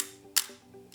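A 35mm film camera shutter set to half a second fires: a sharp click opens it and a second soft click closes it about half a second later, close and clear in a quiet room.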